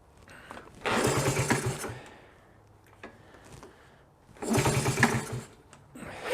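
A choked Honda Trail CT70 engine, left sitting for over 20 years, catches in two short bursts of rapid, buzzing sputter close by, each lasting about a second before dying back to quiet.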